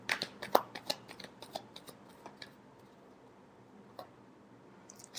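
Tarot cards being shuffled by hand, a quick flurry of soft, crisp riffling clicks that thins out into scattered taps, close and quiet in a still room.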